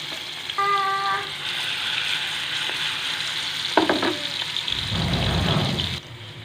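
Ginger fries in hot ghee in a frying pan, giving a steady sizzle with stirring and scraping noises and a brief louder burst of bubbling near the end. No one speaks.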